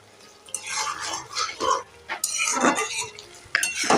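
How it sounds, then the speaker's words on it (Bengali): A spoon scraping and clattering against a cooking pan as spinach is stirred, several uneven bursts of metallic scraping and knocks, close and fairly loud, with no talk. "মাঝে মাঝে কিন্তু এটাকে একটু নাড়িয়ে দিতে হবে যাতে তলা না লেগে যায়"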